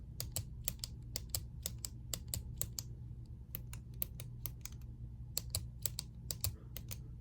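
A retractable click pen is clicked over and over in quick bursts of sharp, close clicks, with short pauses between the runs.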